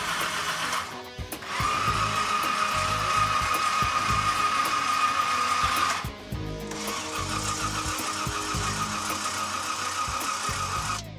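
A supercharged 427 engine in a 1957 Chevy drag car cranks with a steady whirring starter drone that breaks off briefly and then resumes, loud and close, without catching.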